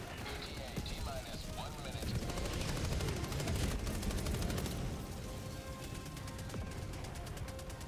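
Rapid video game gunfire shoots at ships in bursts of machine-gun shots with crashes, close and fairly loud, while people talk excitedly over the action.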